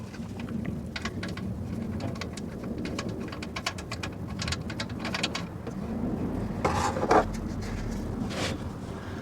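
Engine oil from a Morris Minor sump drains into a pot, a soft, rain-like trickle and patter of irregular drips, fairly faint, growing briefly heavier near the end.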